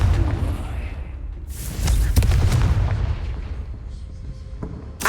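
A Confringo blasting spell explodes in Hogwarts Legacy, with deep booming blasts and crackling bursts over a low rumble and a sharp crack near the end.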